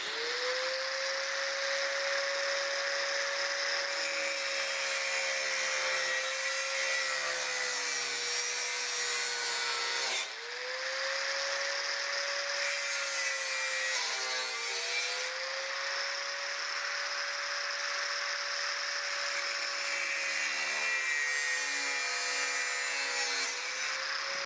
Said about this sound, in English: I'm going to cut away the back tube here, pull the trim tab out